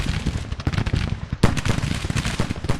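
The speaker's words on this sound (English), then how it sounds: "Turn and face and start firing." Dense musket volleys and artillery fire in a Grand Tactician: The Civil War battle at Pea Ridge, a rapid, loud crackle of overlapping shots with heavy booms, continuous and close.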